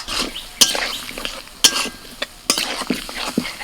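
Spices and vegetables are stir-fried in a pan with turmeric, chili and cumin powders and a splash of water. A spatula scrapes and clinks against the pan in irregular strokes over a soft, steady cooking hiss.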